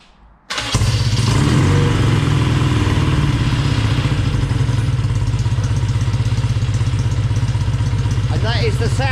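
A restored motorcycle engine starts up after a brief quiet moment and settles into a steady, loud, close idle with a throbbing low rumble, while people talk briefly near the end.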